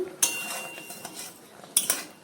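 A metal lid comes off a pot of mango chutney in a home kitchen, giving two bright clanks of metal on metal with a soft rattle and clink between them, close and fairly quiet.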